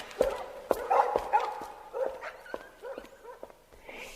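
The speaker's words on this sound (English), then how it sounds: "Now, I'm off with the dogs. Come on, you dogs." Several dogs bark and whimper close by in a busy, overlapping burst of yips, barks and whines, irregular and restless, with sharp bark peaks fading into softer whimpers.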